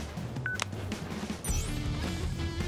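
Flip phone in the video game Crisis Core Reunion, giving a short bright electronic beep and tone burst amid game music and ambience, followed by a denser swell of in-game sound.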